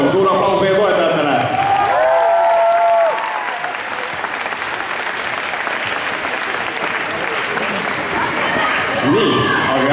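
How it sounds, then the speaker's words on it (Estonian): Loud applause from a dance championship audience honoring the competition sponsors, a dense sustained clapping that swells after a host speaks briefly, then continues for several seconds before another voice comes in. "Suur aplaus meie toetajatele."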